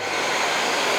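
A Shark AZ950UK Powered Lift Away Anti Hair Wrap vacuum cleaner running with a tool fitted to the handle gives a steady, close, even broadband whir that holds at a constant level throughout, with no talk.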